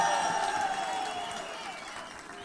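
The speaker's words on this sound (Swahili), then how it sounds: "Wapi makofi ya Murega?" Sustained applause from a crowd, steady and moderately loud, with a faint tonal hum running underneath.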